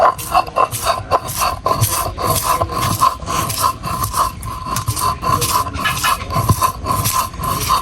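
Dried shrimp, garlic, chili, black cumin and salt are ground on a flat grinding stone, producing rhythmic, close rough rasping strokes repeated steadily, each scrape swelling and fading.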